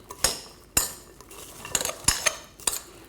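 A spoon scrapes and clinks against a bowl, mixing salad cream into a celery and apple salad; sharp clatters come at irregular intervals, fairly close and with no talk.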